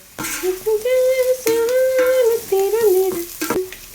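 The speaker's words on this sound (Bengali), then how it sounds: "আর একটু মশলাটা লাল লাল করে ভেজে তারপরে চিকেনটা দিয়ে নামিয়ে নেবো" Spice masala with turmeric and Kashmiri red chili powder fries in a pan, giving a close, steady sizzle with a wavering tonal whine running through it for several seconds.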